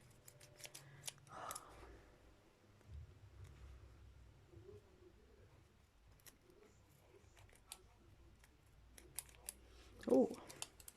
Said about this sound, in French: Oh, j'ai encore trouvé des super ciseaux là.